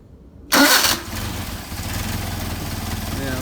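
A Mercedes 190SL engine with Solex 44PHH carburetors cranks and catches with a sharp, loud burst, then settles into a steady, even idle that runs close by to the end.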